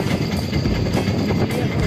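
A train rolls along a busy railway track near the engineering college at Bakhtiyarpur, Patna. A loud, close, continuous rumble of wheels and carriages fills the brief moment.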